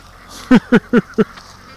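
Four loud, evenly spaced quacks from a duck close by, ringing out one after another in a steady rhythm against a quiet background.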